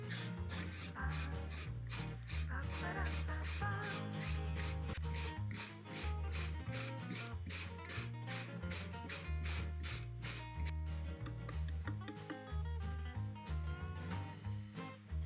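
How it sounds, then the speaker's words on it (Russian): A carrot is rubbed against a coarse kitchen grater in quick, even back-and-forth rasping strokes, about two per second, close and crisp over steady background music, before the strokes fade and the music continues alone. "на крупной терке натрем 1 морковь."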